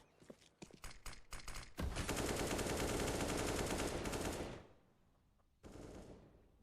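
Counter-Strike match gunfire: a rapid string of sharp Desert Eagle pistol shots builds into a long, dense roar of grenade blasts and sustained shooting, a brief lull, then another loud burst.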